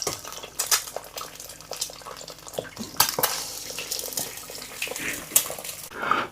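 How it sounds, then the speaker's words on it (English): Two eggs fry in a frying pan in a small kitchen while a full English breakfast is cooked, giving a continuous close sizzle broken by scattered clinks and scrapes of utensils, with no talking. "the eggs are frying in the frying pan"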